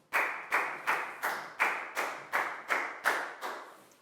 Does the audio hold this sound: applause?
yes